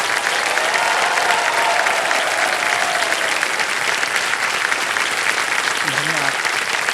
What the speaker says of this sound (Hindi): इतनी जोर से ताली बजी है